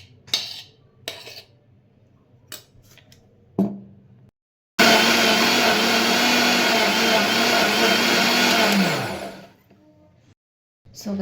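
Mixer grinder blending cream with a little water to make butter, a loud steady whir lasting several seconds that then winds down, with clinks and handling noises before it.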